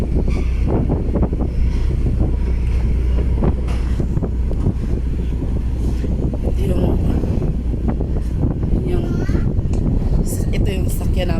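Strong wind buffets the microphone at a port in rough weather, with big waves and a ship close by, a constant low roar and gusty rumble; a voice talks over it.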